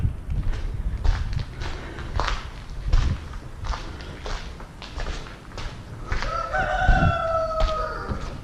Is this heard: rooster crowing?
yes